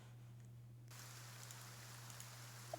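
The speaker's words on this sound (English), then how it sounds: "as the sound of the light rain, as you come out" Soft rain patters steadily, starting abruptly after a quiet moment and continuing as a fine, even hiss with a few faint drips.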